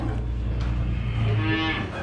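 Cattle at a feeder auction low in a deep, sustained moo, loud and near, with more livestock noise around it through the whole stretch.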